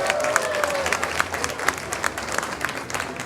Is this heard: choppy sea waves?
no